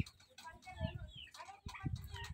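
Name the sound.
Shamo chicken clucking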